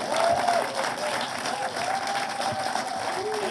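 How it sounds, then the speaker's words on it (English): Applause from an audience at The Celebration 2022 awards event: steady, dense clapping sustained throughout, fairly close, with faint crowd murmur underneath. "You can clap at that if you want"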